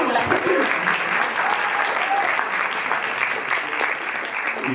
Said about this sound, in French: Oui, on l'applaudit.